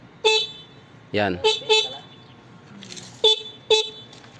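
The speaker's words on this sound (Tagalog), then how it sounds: "So busina natin siya, stock lang" A stock electric-bike horn gives a string of short, sharp beeps in separate bursts, up close, with a brief spoken word in between.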